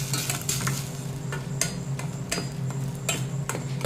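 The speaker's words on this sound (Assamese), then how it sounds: "এইখিনি দি এতিয়া ধুনীয়াকৈ মই লৰাই ল'ম" Paneer white gravy being stirred in a pan after cumin powder is added, soft scraping strokes with light sizzling underneath, repeated in an irregular rhythm close by.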